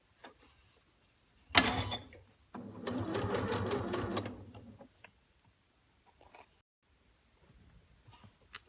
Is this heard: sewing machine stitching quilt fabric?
yes